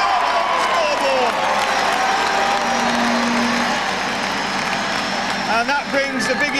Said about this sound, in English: And that brings the biggest cheer of the night.